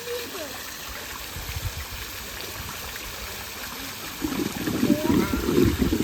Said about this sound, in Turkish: Havuza su mu geliyor?